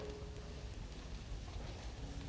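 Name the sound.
rain falling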